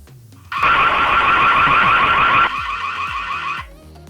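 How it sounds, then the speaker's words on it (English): A loud electronic siren from a Ring floodlight security camera blares with a warbling high tone, then shifts to a thinner pattern before cutting off after a few seconds. "Let's try scaring them away with the alarm."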